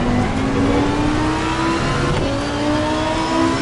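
A GT3 race car engine in Assetto Corsa Competizione revs loud and steady, its pitch climbing through gears with a shift around mid-clip, close and alone with no talk.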